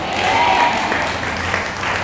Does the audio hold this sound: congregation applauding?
yes